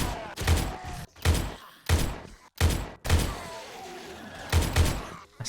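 Gunfire in the zombie survival video game 7 Days To Die, a series of about seven sharp, booming shots at irregular intervals with short echoing tails between them.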